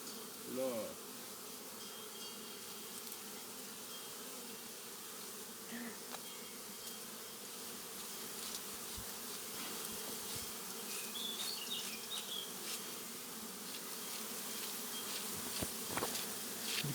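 Steady buzzing of many honeybees during a honey harvest hums throughout, a dense drone with occasional louder passes close by and a few soft knocks.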